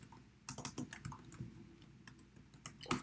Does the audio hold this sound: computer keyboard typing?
yes